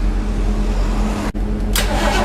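A pickup truck engine rumbles low and steady, then cuts out briefly before cranking again with a bright burst of noise.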